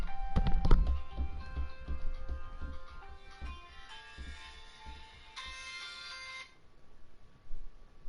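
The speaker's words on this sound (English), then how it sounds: "My phone is ringing." A phone rings in a quiet room: electronic ringtone tones repeat for several seconds over soft clicking, then stop abruptly, with a brief bump afterward.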